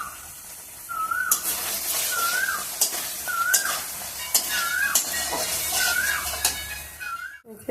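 Capsicum and cashews fry in a pan while being stirred, with steady sizzling and sharp repeated scraping strokes. A whistling, bird-like call recurs about every second in the background.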